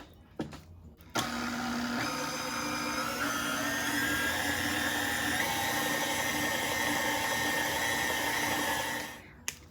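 A hand mixer whirs steadily through key lime pound cake batter tinted with green food coloring, a loud continuous motor drone running for about eight seconds before cutting off, with no talk.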